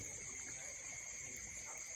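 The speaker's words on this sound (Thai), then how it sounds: "เป็นน้ำไหลนะครับ" Water flowing steadily along a canal, a continuous close wash with a bright trickling hiss that stays even throughout, with no voices.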